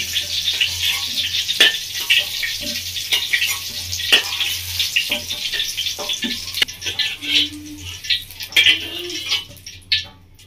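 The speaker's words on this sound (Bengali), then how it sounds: "বন্ধুরা ভালো করে ভেজে নেব" Pieces of pointed gourd (potol) fry in hot oil in a pan for a potol paneer dish, giving a steady crackling sizzle broken by sharp pops and the occasional clink of a spatula.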